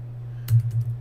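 A short burst of several quick keystrokes on a computer keyboard, close and fairly soft, clicking over a steady low background hum.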